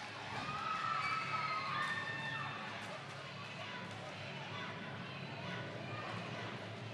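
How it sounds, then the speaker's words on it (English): At a roller derby bout, the crowd's rival chants and cheers overlap in a busy, echoing hall, with an announcer talking over the noise. "Dueling crowd chants."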